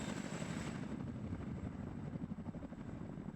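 A Chinook supply helicopter in the strategy game WARNO gives a steady, continuous rotor drone, close and prominent, with no talk over it.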